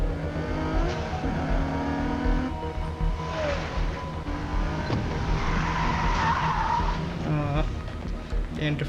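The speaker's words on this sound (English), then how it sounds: "ఏం డ్రిఫ్ట్ కొట్టింది పక్క నుంచి" A car drifts with tires skidding and squealing in the racing video game Need for Speed Heat, played with a steering wheel. Steady engine roar and game music run throughout, with voices talking over them.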